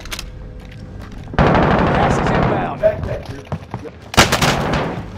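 Gunfire in the Warzone video game: a sudden burst of loud shots bursts in, followed by scattered cracks and a second sharp volley, with a voice talking over parts of it.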